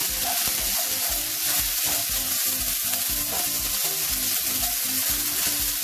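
Turmeric and salt are stirred in a hot frying pan, giving a loud, steady sizzle with rhythmic scraping strokes of the spoon, close up and with no talking.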